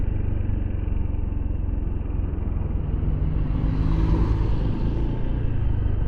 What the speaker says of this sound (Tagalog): Ito siguro kasi big bike motor niya eh.